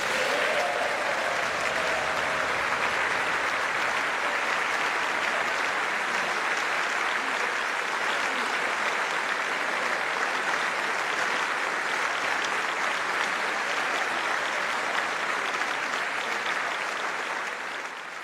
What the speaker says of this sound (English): Congress there giving King Charles a round of applause after his joint address to Congress.